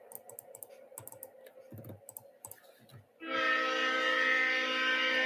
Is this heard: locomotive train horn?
yes